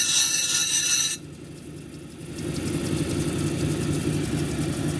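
A lapidary grinding wheel works a bloodstone cabochon, grinding out a flat spot as a continuous mechanical hum. A brief high whine at the start drops away, then the steady grind swells back and holds.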